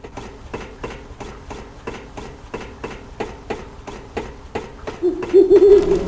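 Bird calls in the video game Fragile Dreams, a few short chirping notes near the end over a steady rhythm of footsteps, fairly close and clear.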